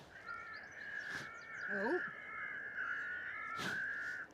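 A crow-scaring distress call blares from a ground crew car at an airport, a long harsh sustained tone with brief sharp bursts, while a voice briefly exclaims over it.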